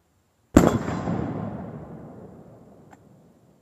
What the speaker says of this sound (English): now we have 762x54R through the 9130 Mosin Nagant, shooting silver tip surplus ammo